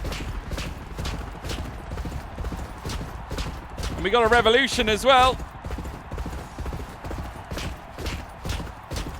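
Galloping hooves pound in a steady, rapid rhythm during a race in the horse-racing game Champion Jockey: G1 Jockey & Gallop Racer. A horse whinnies briefly midway, and someone talks over the race throughout.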